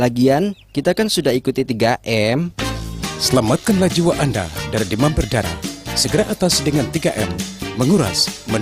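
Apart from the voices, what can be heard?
No distinct noise like a dog, phone or traffic.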